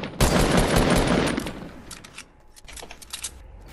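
Fortnite gunfire, a loud burst of rapid shots up front that thins into scattered, quieter pops and clicks over the next few seconds.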